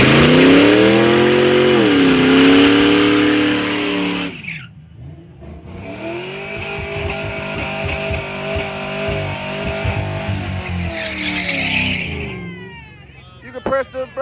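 A Camaro race car engine roars loudly and revs, its pitch swooping up and down as it accelerates during a grudge race, then settles into a sustained drone.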